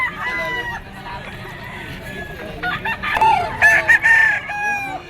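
Gamefowl roosters crow repeatedly at a market among standing sellers, several overlapping calls near and far with clucking, over busy crowd murmur.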